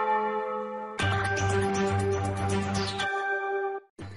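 Church bells ringing in a French village, rich metallic tones that ring and overlap in a loud cluster, then fade into a lingering hum before another strike comes in, with no voices.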